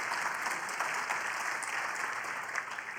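Audience applause at a live medical conference session on Waldenström's macroglobulinemia, a dense, steady wash of many hands clapping that holds at an even level from start to finish with no voices.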